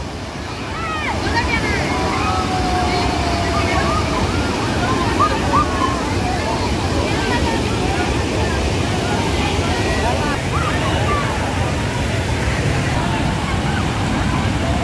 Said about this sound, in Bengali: পানির যে স্রোত ভয় লাগে।